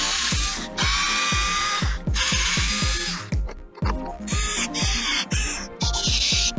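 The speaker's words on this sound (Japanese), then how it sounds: "こちらの SK11 のデュアルドライバーを使って外していきます。" A hand-held SK11 dual ratchet driver backs out screws on an air compressor, giving quick, close, regular ratchet clicks in bursts of turning, with no voices.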